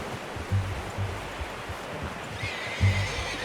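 A horse in Red Dead Redemption 2 whinnies twice in short bursts over a soft ambient background of wind or water.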